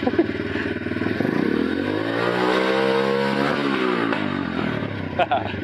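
A moped engine revs after carburetor tuning, climbing and falling in pitch with a rough, close, loud buzz and a few pops at the end.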